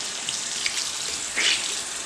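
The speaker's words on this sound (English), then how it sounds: "And then you just kind of massage the beauty blender and put some cold water." Cold water runs from a tap while a beauty blender sponge is rinsed by hand, a steady close hiss of flowing water with soft splashes and brief squelches.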